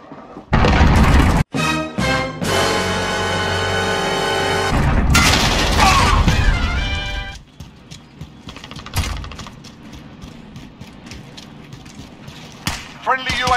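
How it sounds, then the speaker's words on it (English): Incoming missile strikes in the Call of Duty Modern Warfare beta on the Point Blank map with night vision: loud booming blasts and a long, droning roar, then sparser thuds and clatter, with a voice calling out over the noise. "Missile incoming, take cover!"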